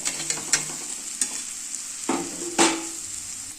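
Okra stirred into masala sizzling in oil crackles brightly up close, with several quick spatula scrapes and one louder hiss as the pan is worked.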